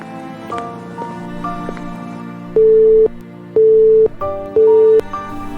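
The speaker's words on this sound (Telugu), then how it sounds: "అరే, ప్రణవ్ అవుట్ గోయింగ్ కాల్స్ కూడా కట్ చేసేశాడా?" A telephone busy signal on an outgoing call that will not connect: three loud, steady tone bursts spaced about a second apart, over a continuous background of soft music.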